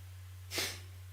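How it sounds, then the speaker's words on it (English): One short, sharp exhale through the nose as part of a breathing exercise, faint and isolated over a steady low hum. "rapid, sharp exhales through the nose."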